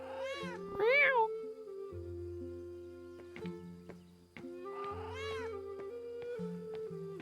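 Two distinct meows from a cat in the medieval adventure game Pentiment, one near the start and another a few seconds later, each clear and fairly close over a steady low ambient hum with faint soft clicks between them.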